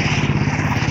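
A motorcycle engine drones close by during a long-distance bike ride, with a steady throbbing pulse through the short moment.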